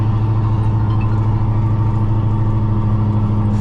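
Scania off-highway log truck hauling a double trailer up a hill, its diesel engine a steady, loud, low droning rumble under load with a constant tone, no talk.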